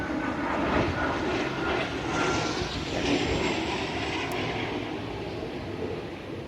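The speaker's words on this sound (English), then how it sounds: "Sounds like there's an airplane right there." Propeller-like drone of a fixed-wing airplane passing overhead above a garden, a steady broad rumble filling the whole stretch with no voices.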